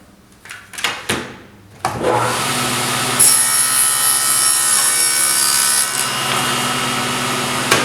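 A hand saw with a crosscut guide cuts through wood in a studio workshop, a few short scraping strokes first, then a steady, loud, continuous sawing run that carries on to the end.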